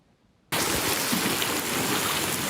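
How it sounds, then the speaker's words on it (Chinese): Heavy typhoon rain falls in southern Taiwan, a sudden loud dense wash of downpour that starts abruptly after a quiet moment and continues steadily. "大雨落袂停，外口规个拢淹水"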